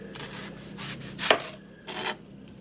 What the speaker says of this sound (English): Okay, let's get to the onion. I take off the end, and then I'll take off the root end.